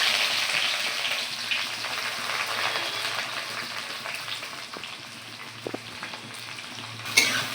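Chopped onions fry in oil with cumin and bay leaves, a dense close sizzle that fades a little over time as a spoon stirs, with a few clinks near the end.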